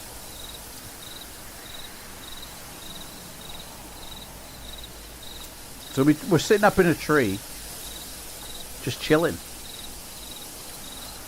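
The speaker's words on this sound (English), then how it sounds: "Oh, can you hear the crickets?" Crickets chirp at night in a steady, evenly pulsed trill that runs the whole time at a moderate, somewhat distant level, with someone speaking over it partway through.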